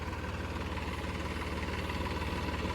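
A tractor engine idles steadily at close range, a continuous low, even throb with faint vibration that holds unchanged throughout, with no voices over it.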